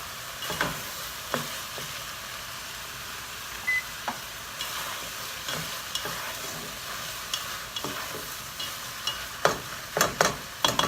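Meat browns in a pan for red chili with a steady broad sizzle, punctuated by scattered scrapes and clicks of stirring that grow more frequent near the end, close-up with no talking.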